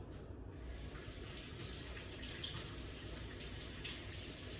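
Tap water runs steadily into a kitchen sink as something is rinsed off, a continuous close hiss and splash that holds at an even level after a brief quieter start.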